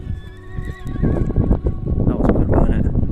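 A horse neighs loudly nearby, a long wavering whinny, with hoof clops and other background noise around it.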